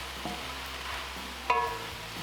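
Fresh spinach wilting in a hot pan of zucchini pasta sauce gives a soft, steady low sizzle, with a few faint clinks of a utensil against the pan.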